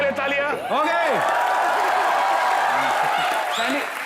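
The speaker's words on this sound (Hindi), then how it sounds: "रितेश देशमुख के लिए तालियां।" A studio audience on a comedy show breaks into applause for Riteish Deshmukh, a dense wash of clapping and cheering that swells after a moment and holds steady for several seconds beneath loud, excited talking.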